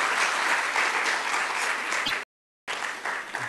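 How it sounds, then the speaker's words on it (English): Audience applause after a talk at a science week event, a steady dense clapping that fills the room, briefly cut off by a gap of silence before resuming just as strongly. "So I wish all of you can give a very big applause for his nice talk in this aspect."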